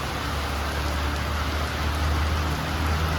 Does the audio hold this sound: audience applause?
no